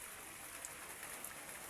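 Rain falls in a rural countryside setting, a soft, steady hiss with occasional faint drop taps and no other sounds.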